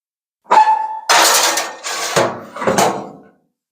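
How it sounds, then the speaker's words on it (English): Food going into a toaster oven: a short metallic scrape and tone, then a few loud clattering knocks and rattles of a tray and door, close up with no talk. "So now I'm going to throw it in the toaster oven."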